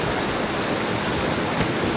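Rushing current of the Serayu River, a strong, broadband roar of fast water that stays steady and loud from start to finish with no pauses.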